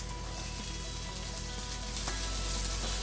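Onions fry on a high flame for Indo-Chinese veg fried rice, a loud, dense and continuous sizzle heard close up with faint stirring underneath.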